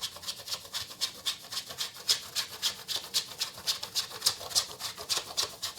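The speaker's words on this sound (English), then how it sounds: "perhaps I'll use a bit of a chocolate bar and some chocolate shavings" Chocolate bar shaved into curls for a cake garnish, heard as rapid, even scraping strokes close by, about four per second, with no voices.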